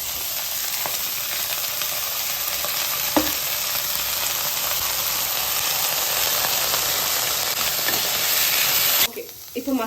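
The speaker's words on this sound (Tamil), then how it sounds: "நம்ம வெஜிடபிள்ஸ் ஃப்ரை பண்ணிக்கலாம். Just light oil R butter." Vegetables fry in a light film of oil in a pan, a steady close sizzling hiss running throughout with a few soft clicks of stirring, before the sizzle cuts off near the end.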